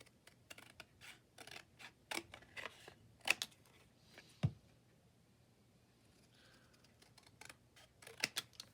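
Scissors trim paper for a decorated journal page, with a string of close, crisp snips and cuts in an irregular rhythm, some louder than others.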